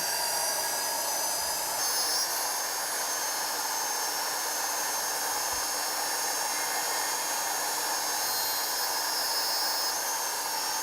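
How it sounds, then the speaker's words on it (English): A steady, high-pitched whine of a small rotary drill bit drilling ivory for an inlay runs continuously without pause, fairly close and even in level throughout. "to do the ivory inlay, I will use a smaller drill bit. Drill the hole."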